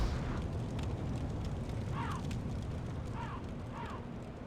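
Fire bursting in the video game Demon's Souls, a continuous low roaring rumble with faint swooshing effects over it.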